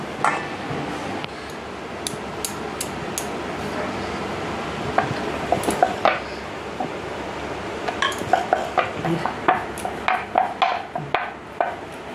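Dough for a fish-filled roll is rolled out thin like roti, giving soft rubbing under steady background noise, then a run of quick rhythmic knocks and clacks of the rolling pin near the end.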